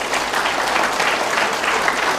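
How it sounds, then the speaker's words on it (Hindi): An audience in a hall packed with new guests claps loudly for everyone present, dense sustained applause from many hands throughout, close and full. "बहुत जोरदार तालियां बजाएंगे हम सभी साथियों के लिए।"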